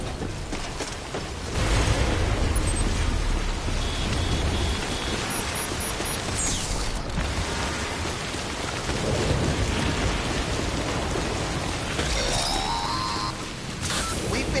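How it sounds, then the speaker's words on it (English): Heavy rain pours and thunder rumbles through a stormy landscape in the video game Death Stranding, a dense, continuous downpour with rolling low crashes. "Getting near constant timefall in this region for a while now."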